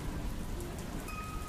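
Heavy rain falls in a steady, dense hiss with no voices, a continuous downpour behind a Bengali horror audio story.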